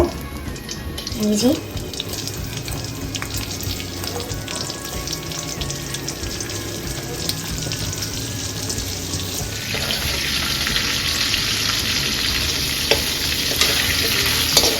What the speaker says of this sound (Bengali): চিংড়ি মাছগুলো এক এক করে ভেজে নেব